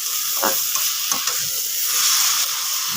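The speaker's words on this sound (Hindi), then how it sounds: "और अब हम इसको अच्छी तरह से मिक्स कर लेंगे।" Tomato paste is stirred into masala okra frying in a pan, giving a steady close sizzle broken by a few scraping strokes of the spoon.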